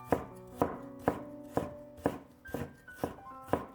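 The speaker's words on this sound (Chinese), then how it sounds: "再准备半块生姜，先切成薄片，再切成细丝" A knife chops half a piece of ginger into thin strips, giving about eight crisp, evenly spaced chops on a cutting board, close and clear with no talking.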